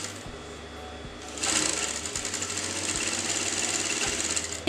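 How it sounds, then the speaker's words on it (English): A sewing machine stitches a kurta neckline, its rapid mechanical chatter running steadily at close range after a short quieter start, with no voices. "So you're going to sew on the wrong side so that you will get this bobbing thread at the front side."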